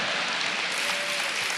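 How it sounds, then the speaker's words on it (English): Steady audience applause fills the room at a podcast taping, a dense, even wash of clapping holding at constant loudness throughout with no voices rising above it. "Give him a round of applause."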